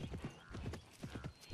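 Horse hooves clop in a quick, steady rhythm in the riding game Horsez 5, close and moderately loud, with faint whinny-like tones mixed in and no voice.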